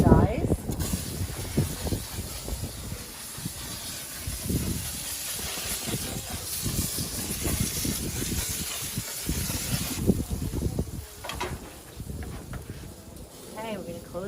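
A spray bottle mists marinade onto a Cornish hen on a grill in bursts, with a steady hiss of sizzling throughout and a person talking over it.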